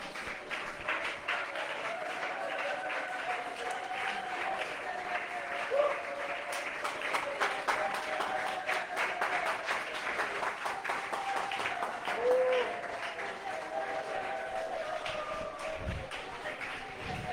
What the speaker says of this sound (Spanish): Suelte ese aplauso al Rey de la Gloria